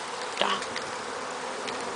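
Honeybees around a hive, agitated and chasing intruders, make a soft continuous buzz that holds steady throughout, with a brief louder flurry near the start as one insect passes close.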